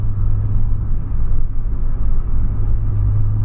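A smoky truck rumbles by close and loud on a road, with a steady, heavy low engine drone throughout.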